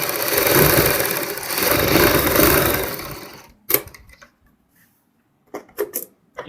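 Sewing machine running a double line of stitching over an existing neckline seam, a fast steady whirring burst for about three seconds, then stopping, followed by a few faint clicks and handling noises.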